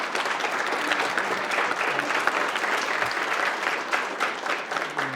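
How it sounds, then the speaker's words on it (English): Audience applause at a March 2016 talk, a steady dense wash of many hands clapping that holds at an even level throughout, close and full, with no voices over it. "Can we get a round of applause for that?"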